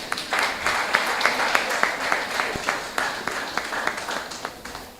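Girls at a sports club anniversary event stand and clap for their parents, a steady patter of many hands with sharper individual claps standing out, fairly distant and moderate in level.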